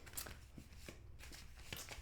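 Large tarot cards being shuffled by hand, several brisk riffling bursts spaced out over a couple of seconds, close and fairly soft.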